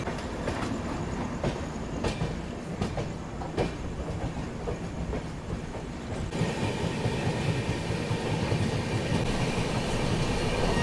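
A Rajdhani Express (New Delhi–Bilaspur) running on the rails near Jhansi toward Gwalior, a steady loud rumble with rhythmic clickety-clack of wheels over joints, heard from inside a third AC coach, growing louder midway.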